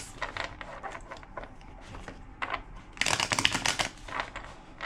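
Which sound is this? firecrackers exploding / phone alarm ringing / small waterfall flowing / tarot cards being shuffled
tarot cards being shuffled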